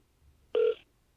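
A single short telephone ringback tone on an outgoing call, one clear electronic tone about a quarter second long, heard alone against a quiet background.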